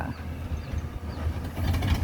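A ten-wheel truck engine rumbles steadily at low pitch, running continuously and close by, growing slightly louder toward the end, with no voices.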